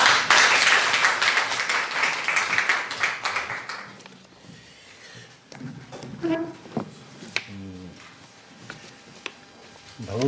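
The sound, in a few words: seminar audience applause welcoming a speaker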